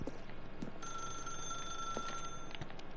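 A telephone rings steadily in The Stanley Parable, a bright electronic bell tone sustained for a couple of seconds over a faint room hum, with no one talking.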